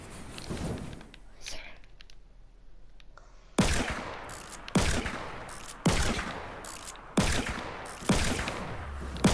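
Video game gunfire cracks out in five loud bursts after a quieter stretch, shots landing in quick clusters roughly a second apart, with a player's voice talking over the game.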